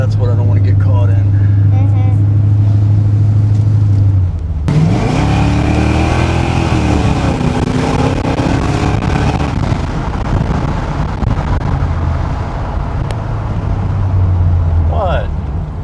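A 1981 Corvette engine drones loudly on a test drive, then revs and pulls hard with rising pitch, wind rushing over the microphone, before easing back to a steady cruise.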